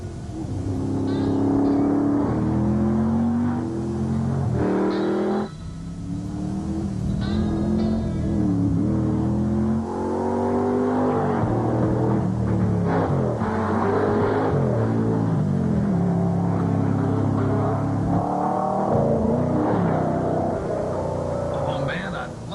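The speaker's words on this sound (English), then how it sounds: "The 450 horsepower Porsche Cayenne Turbo." A 450-horsepower Porsche Cayenne Turbo accelerating, its engine rising in loud repeated revving surges with sweeping pitch, steady and close throughout with other sound mixed underneath.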